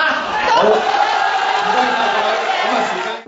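A crowd of citizens at a public rally in Victoria Park jeers and shouts at a speaker promoting a political reform plan, a dense continuous roar of many voices that fades out at the end.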